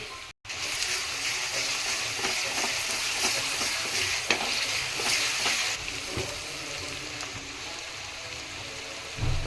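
Onion and ginger-garlic paste fry steadily in a pan for a chicken masala curry, a continuous close sizzle with occasional stirring scrapes and small pops.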